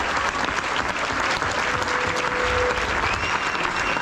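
A large audience applauding at an event, a dense steady patter of many hands clapping that stays loud and even throughout.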